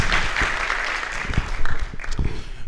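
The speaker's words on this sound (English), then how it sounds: "can we just have a big round of applause," Audience applause in a hall during a business talk, a steady wash of clapping from many hands at moderate volume, with a few louder claps standing out near the end.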